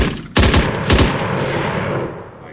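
Game gunfire strikes a character in an Unreal Engine third-person shooter. Two short, loud, rapid bursts crack out close, with a ringing tail fading behind them.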